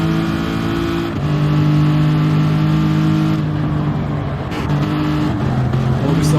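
A race car in a sim racing video game drones loudly with a steady engine tone that dips as it brakes into a heavy braking zone, with commentary faintly underneath.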